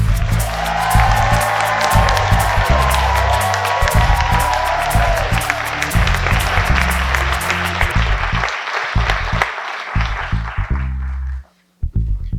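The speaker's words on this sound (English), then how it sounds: "give that big, warm round of applause to Muhammad T. Al-Sharkawi." A theatre audience at a storytelling night applauds and cheers a storyteller, a dense, loud roar of many hands and voices sustained for about eleven seconds before cutting off abruptly near the end.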